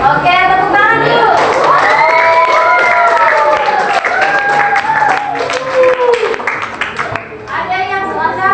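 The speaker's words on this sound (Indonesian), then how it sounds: "Oke, tepuk tangan dulu." Students clapping and cheering in a junior high school classroom, with sustained applause and excited children's shouts filling the room.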